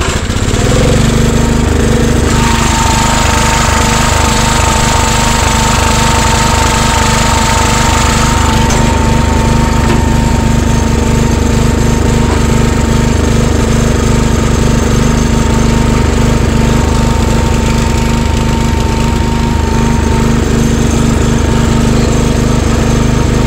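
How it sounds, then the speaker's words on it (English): An old lawnmower engine, started after sitting all winter, runs loud and close with a rough, steady rattling drone. It keeps going without a break for over twenty seconds, with no voices over it. "So we fired up the old lawnmower."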